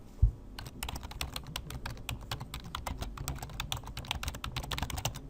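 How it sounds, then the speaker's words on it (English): Steady close typing on a computer keyboard, a fast run of light key clicks with no pauses, heard alone without talking. "type my message in here"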